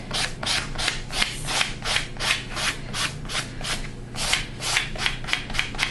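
Hands rub and smooth a photo print face-down onto a canvas coated with gel medium, pushing out from the center to flatten ridges and bubbles. The close, steady rubbing comes in repeated strokes, with no voices.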